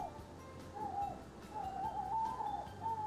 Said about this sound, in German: Ein, fleischfressende Eule?